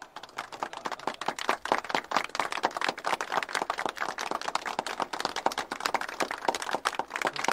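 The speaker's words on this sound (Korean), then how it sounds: "박수를 보내 주십시오." Members of a legislative assembly applauding, sustained dense clapping from a sizeable group that stays steady and fairly close throughout, with no voices over it.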